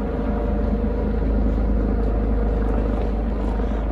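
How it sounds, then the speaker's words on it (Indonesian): An ambulance helicopter passes overhead on a fine, cold day, its steady heavy rotor and engine rumble filling the scene, loud and continuous with no talking. "Hari ini ada ambulan helikopter."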